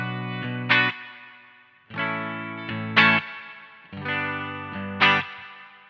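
Electric guitar played through an Analog Alien Rumble Seat spring reverb at a low setting, three loud strummed chord phrases in a steady rhythm, each ringing bright with a long, noticeable spring tail between strums.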